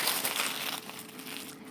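Parchment paper is crumpled by hand to line a cheesecake pan, a close, dense crinkling that rustles continuously and eases off slightly toward the end.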